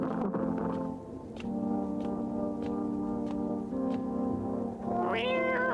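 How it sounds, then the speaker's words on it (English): A cat meows repeatedly in a psychological horror video game, its calls rising and falling over a sustained, droning tonal background. A higher, drawn-out meow comes near the end, and no one talks. "There's a cat there."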